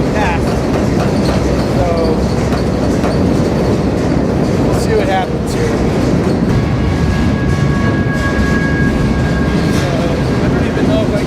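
A freight train rolls steadily beneath a rider on board, with continuous heavy rumble, rhythmic wheel clatter and a thin metallic squeal partway through, while someone talks briefly over the noise.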